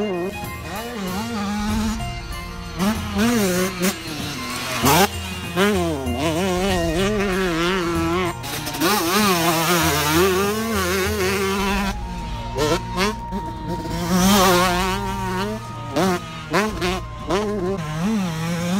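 A 2018 Ride House 125 motocross bike revs hard while riding, the two-stroke engine whining and rising and falling through the gears, loud and close throughout with no speech.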